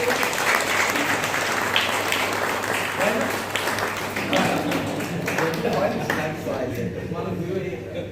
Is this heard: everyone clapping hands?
yes